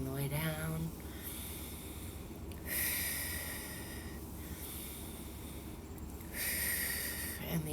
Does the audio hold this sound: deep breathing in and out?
yes